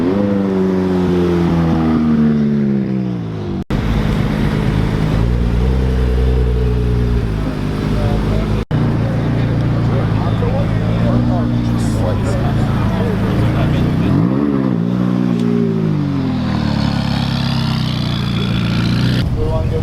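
A Rimac Concept 2 electric hypercar accelerates loudly up close, pitch sweeping upward through gear changes, with people talking over it, in Denver.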